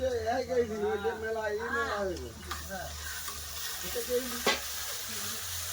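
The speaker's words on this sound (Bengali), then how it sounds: "আদা রসুনটা পেঁয়াজের সাথে ভালো করে ভেজে নেবো" Ginger-garlic paste sizzles with browned onions in a pan, stirred with intermittent scrapes and a steady low hiss; a voice talks over the opening moments before the frying carries on alone.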